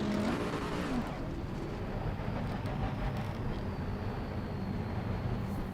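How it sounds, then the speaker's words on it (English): Race car engine in Assetto Corsa Competizione at the Nürburgring, a steady loud idle and low rumble holding continuously after ignition, with no distinct starter whine standing out. "Ignition starter."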